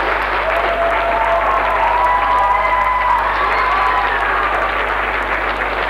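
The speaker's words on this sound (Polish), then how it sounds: "proszę, żebyście moją prośbę poparli oklaskami" Steady, dense applause from a large audience at a 1999 carol festival, continuous clapping with some cheering over a constant low hum.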